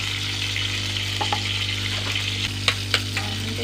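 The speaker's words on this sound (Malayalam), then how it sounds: "കുറച്ച് കടുക് ഇട്ട് കൊടുക്കട്ടെ കേട്ടോ" Mustard seeds dropped into hot oil in a pan, a steady close sizzle and frying hiss with a few small pops and crackles toward the end, alone without talk.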